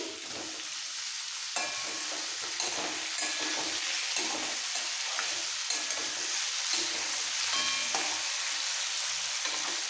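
Eggplant fries in an uncovered pan of hot oil, a loud, bright, continuous sizzle close up, punctuated by sharp spatula scrapes and tosses every second or two, with no talking.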